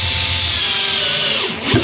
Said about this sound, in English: I'm putting the screws in as well just to make sure,